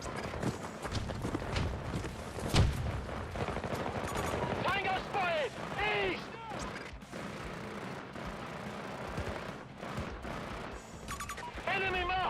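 Gunfire in the Battlefield 6 video game: bursts of shots crack out in rapid clusters over steady battlefield noise, with a player's voice talking intermittently.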